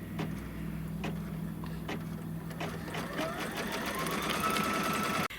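An embroidery machine stitches a tack-down line for a Kimberbell roll-up pouch, giving a steady close mechanical whir with rapid needle ticking throughout, rising slightly in pitch toward the end.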